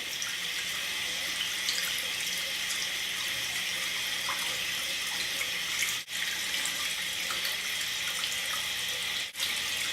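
A kitchen or bathroom tap runs steadily while a makeup brush is rinsed under the stream, a constant close hiss of flowing water broken by two brief dips as the flow is interrupted.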